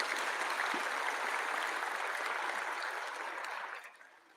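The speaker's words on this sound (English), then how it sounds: "Let's give a huge round of applause again for these Brighter Mind kids." Applause from an audience at a youth event, a dense even wash of clapping at moderate level that holds steady and then fades out near the end.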